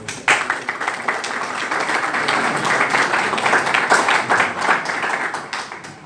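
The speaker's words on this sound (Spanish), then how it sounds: "Un fuerte aplauso para todos ustedes." Audience applauding at a book presentation for an essay collection by an Ecuadorian author, with steady dense clapping that fills the room for several seconds and fades slightly at the end.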